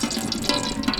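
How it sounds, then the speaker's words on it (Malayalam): Ghee poured into a hot pan, a continuous close liquid pouring and hissing sound lasting about a second, with nobody talking. "അപ്പോൾ ആദ്യമായിട്ട് നമുക്ക് ചൂടായ നമ്മുടെ പാത്രത്തിലേക്ക് നെയ്യ് ഒഴിച്ചു കൊടുക്കാം"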